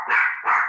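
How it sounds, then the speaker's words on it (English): A dog barks twice in quick succession, loud and close, each bark short and sharp with a brief gap between, with no talking. "dogs."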